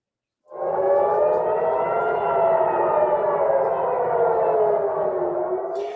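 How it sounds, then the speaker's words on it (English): A civil defense air raid siren sounding across Israel during an attack from Iran, starting abruptly and holding a loud, slowly wavering multi-tone wail for several seconds, distant and reverberant, with no voices. "Sirens have been sounding right across Israel after the latest wave of airstrikes launched from Iran."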